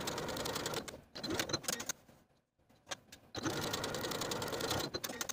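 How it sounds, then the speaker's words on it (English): A home sewing machine top-stitches along the top edge of a kimono jacket pocket: a loud, steady mechanical whir in two long runs, broken by a short pause to nearly silent, then resuming. "we're going to top stitch along the top of the pocket from the side to our marking"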